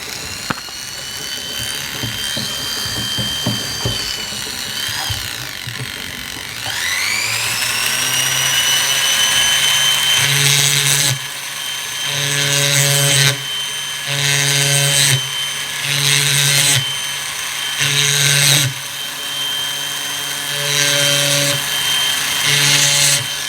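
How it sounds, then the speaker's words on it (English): A rotary tool fitted with a 2mm ball burr runs over a silver ring to give it a hammered finish. It makes a high, steady whine that starts, stops and revs up again in repeated close bursts. "2mm ball burr here, and we can use this now to go over the whole ring"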